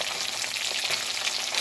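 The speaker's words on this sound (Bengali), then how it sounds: "এই তেলের মধ্যে আমি ভেটকি মাছগুলোকে ভেজে নেব" Pieces of bhetki fish frying in hot oil, a dense continuous sizzle and crackle close up, steady throughout with no talking.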